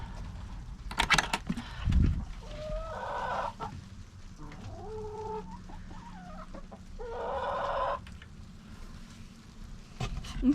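Several chickens cluck and squawk nearby in short bursts, with a couple of drawn-out calls and occasional bumps and rustling between them.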